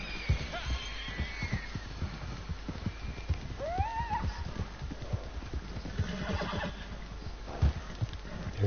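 A horse in the video game Red Dead Redemption 2 gallops with rapid hoofbeats and lets out a rising whinny partway through, with game ambience around it.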